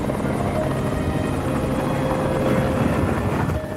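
A medical airlift helicopter in Alaska beats out a loud, steady rotor thump with a constant engine roar, close by and unbroken, with no one talking.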